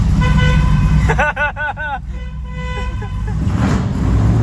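A truck rolls past in traffic during a hot rod tour at Atlanta Motor Speedway, its loud horn sounding in several quick blasts over the engine rumble. Someone talks briefly before and after.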